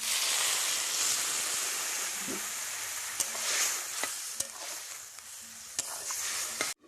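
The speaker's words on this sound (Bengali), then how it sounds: "মশলা কষে গেছে এবার আমি জল দিয়ে দিচ্ছি" Spiced masala hissing loudly in a pan as water goes in during cooking of a pointed gourd and prawn curry, a bright continuous sizzle with a few sharp clicks of utensils, close by and without speech.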